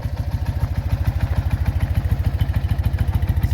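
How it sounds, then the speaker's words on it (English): An old motorcycle engine, a tractor-like bike, runs steadily close by, its loud low thumping exhaust beats coming in a fast, even rhythm with mechanical clatter on top. "It's a good looking bike and it sounds great."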